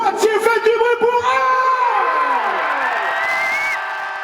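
An audience at a live show in Poitiers erupts into loud cheering, high whoops and shouts, with many children's voices among them, rising at once and then holding as a sustained roar of excited crowd noise.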